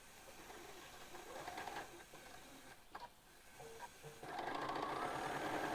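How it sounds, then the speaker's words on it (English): A sewing machine stitches along a marked line on fabric for a quilting project, a fast steady mechanical whirring and ticking that rises at the end into a louder, quicker run, close and alone with no talking. "So we're going to stitch right on that line"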